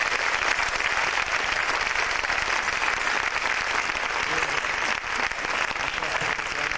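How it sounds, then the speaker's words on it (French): A dense, steady wash of applause from a concert audience at a Slovak cultural event, holding at an even level throughout with only a brief dip near the end. "applaudir très fort"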